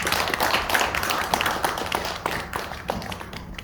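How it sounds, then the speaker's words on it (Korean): An audience at a lecture event in Jangsaengpo claps together in a steady burst of applause lasting a few seconds, fairly close and even, with no talking. "뜨거운 감사의 박수 부탁드립니다"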